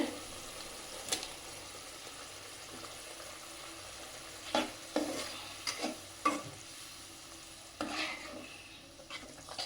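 Spice paste with tomatoes sautés for a fish curry, giving a soft continuous sizzle under occasional scrapes and stirs of a spoon in the pan, at moderate level without speech.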